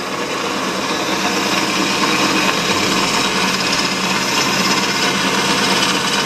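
An old, well-worn Sydéric S 130 drill press runs continuously at full speed, a loud, steady mechanical whir with a slight rattle, close by.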